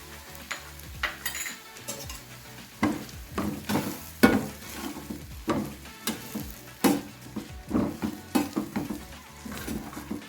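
Roughly crushed rolled oats are dry-roasted in a pan, stirred with repeated close scraping strokes in an irregular rhythm over a light sizzle, with no talking.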